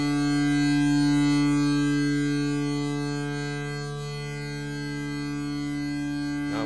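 A Behringer Grind synthesizer holds a steady sustained tone, swelling up and then dropping back to a lower held level before releasing near the end, shaped by its envelope settings; no voices.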